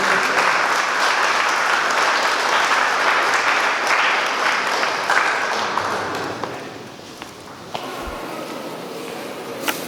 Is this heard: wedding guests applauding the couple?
yes